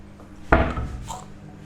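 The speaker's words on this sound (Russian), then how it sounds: "Итак, я беру сковороду, ставлю ее на газ." Frying pan picked up and handled in a kitchen, one sharp knock of metal against a surface followed by a brief faint clatter, close by and otherwise quiet.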